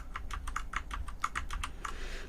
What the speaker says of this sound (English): Or you can go Control and Z on the keyboard